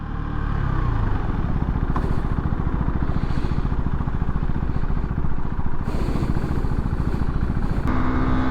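A motorcycle ridden in third gear, its engine droning loud and continuous at a steady pitch with rumbling wind and road noise and no talking.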